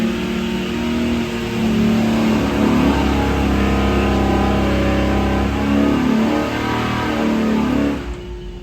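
A 376ci LS engine on a dyno making a short pull from about 4,000 to 4,500 RPM, a loud steady mechanical roar that holds its pitch for several seconds before cutting off near the end.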